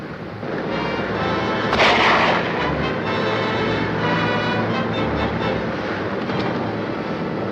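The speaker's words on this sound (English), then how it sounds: "That cannon you got up there works, don't it?" A ship's cannon fires at sea in a 1954 South Seas adventure serial, with one loud boom near the start followed by rumbling, crackling noise that carries on under the rest of the scene.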